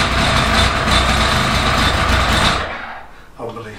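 A cold engine, just primed with fuel and fired straight up, rumbles in a dense, loud idle before the sound drops away, with a brief voice near the end.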